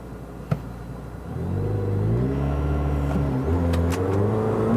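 A 2018 McLaren 720S supercar in track mode launches hard off a brake-torque start, its turbocharged engine rising from a low rumble into a loud, climbing rev that sweeps upward through the gears.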